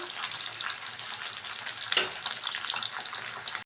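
Rohu fish pieces fry in oil with a close, continuous bubbling sizzle, broken around the middle by a brief scrape from turning or stirring.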